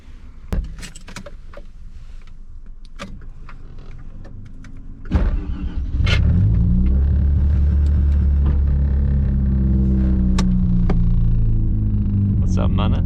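A Mazda FD RX-7 runs at night, first idling quietly with clicks and a brief mechanical whir, then pulling away onto the highway with a loud, steady low engine drone and someone talking over it.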